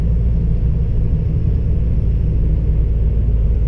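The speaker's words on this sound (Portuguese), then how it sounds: "Aqui eu vou baixar a marcha." A truck engine drones in a steady, loud, low rumble as it climbs the Serra do Cafezal mountain road while the driver shifts down a gear, with no voices over the noise.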